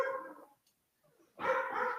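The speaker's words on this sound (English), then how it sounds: "Dogs barking." Dog barking in two bursts separated by a brief near-silent pause, loud and close, with no talk over it.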